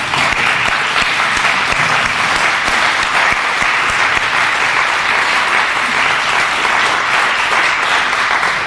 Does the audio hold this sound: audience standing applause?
yes